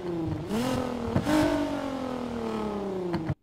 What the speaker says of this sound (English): Now we test some engine sounds.